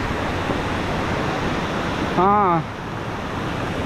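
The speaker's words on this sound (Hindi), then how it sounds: "वो इतना ज़ोर ज़ोर से आवाज़ आ रहा है पानी का" Loud, steady roar of the Langvoku waterfall in Karbi Anglong, Assam, a continuous broadband rush of water throughout, with someone briefly speaking over it partway through.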